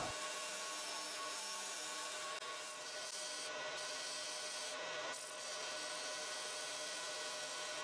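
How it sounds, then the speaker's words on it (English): A heavy-duty scraper shaving wood from the inside of a maple and mahogany box lid gives a steady, continuous rasping scrape, close and even in level, with no talking. "I use the heavy-duty scraper to remove the material in the internal part of the lid."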